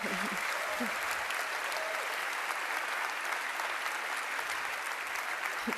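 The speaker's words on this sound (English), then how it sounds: "big applause to yourselves for making this happen." Sustained audience applause fills the hall at the closing session of the 2025 European Youth Event, a dense, steady wash of many hands clapping at even loudness throughout.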